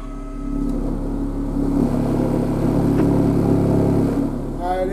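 A TarAmps MD8000 amplifier driven to clipping with a 35 Hz test tone, a loud, steady low drone with harmonics that swells and holds for about four seconds before fading, with a brief voice near the end.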